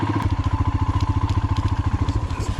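A motorcycle engine thumps in a fast, even rhythm as the bike pushes through heavy snow slush at Sela Pass, loud and close with a steady mechanical pulse and no talking.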